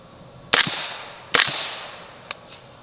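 Gunshots from a 300 Blackout AR rifle at an outdoor event in an old fort: two sharp, loud reports about a second apart, each trailing a short echo, then a smaller distant crack.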